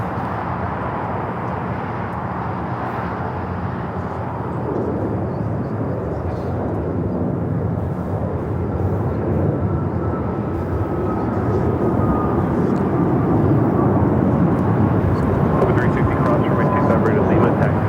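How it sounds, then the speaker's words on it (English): An American Airlines A321neo jet takes off at LAX with a steady, broad roar that builds toward the end. It is loud and continuous, with faint radio chatter underneath. "American A321 Neo taking off to Washington Reagan National"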